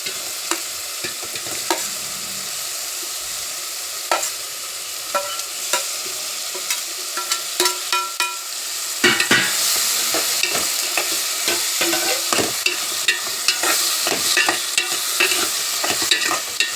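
Onion and tomato fry in a pan and are stirred, giving a constant close sizzle broken by scraping strokes. The sizzle grows louder and fuller partway through. No talking.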